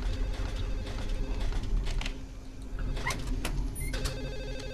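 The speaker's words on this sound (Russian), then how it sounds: "Вот и телефон." Telephone ringing in the Silent Hill 4 video game, repeated ring bursts over a steady low background hum with some clatter, heard at a moderate distance.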